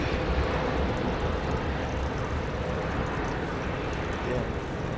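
Boeing Dreamliner on its long takeoff run at Heathrow, a steady distant jet roar heard from afar, with faint talk mixed in.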